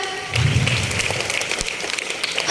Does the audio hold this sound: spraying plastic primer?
no